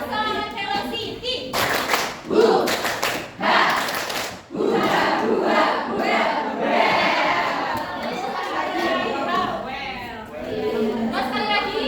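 A sixth-grade class performs a rhythmic clapping chant together, bursts of unison claps alternating with loud children's shouts, with a teacher's voice leading between them.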